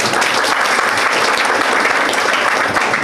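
Audience clapping at a farewell ceremony for soldiers, a dense, loud, continuous wash of applause from a crowd with no voices.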